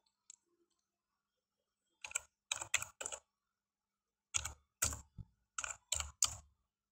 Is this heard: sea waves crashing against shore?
no